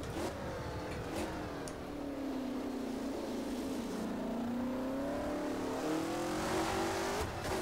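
Race car engine in the rFactor racing game, a steady sustained drone whose pitch dips and then climbs again as the throttle is eased through corners, loud and continuous with no talk.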